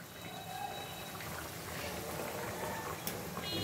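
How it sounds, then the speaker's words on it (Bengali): Fish curry broth with potato and eggplant bubbles quietly in a pot, a faint, continuous simmering burble with a small clink near the end. "ফুটছে।"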